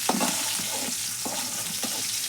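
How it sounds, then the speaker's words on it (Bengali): Whole garlic cloves sizzle in hot oil in a pan, the start of a jute leaf dal, a steady close crackle with a few louder stirring bursts. "রসুনটা হালকা একটু ভেজে নিলে দুইটার কালারই একরকম হয়"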